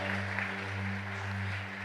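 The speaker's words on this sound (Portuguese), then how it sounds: "aplauda o Senhor pela sua palavra" A church congregation applauds in a steady, dense wash of clapping that holds for the whole moment over sustained low musical tones.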